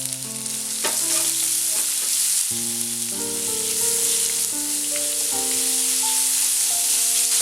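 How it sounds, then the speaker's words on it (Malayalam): Crushed ginger and garlic stirred while frying in a pan for chole masala, a steady close sizzle with scraping stir strokes, under a sustained musical tone running throughout and no one speaking. "ഇഞ്ചി വെളുത്തുള്ളി ചതച്ചത്, ഇതിൻ്റെ പച്ചമണം പോകുന്ന വരെ ഒന്ന് ഇളക്കി കൊടുക്കാം."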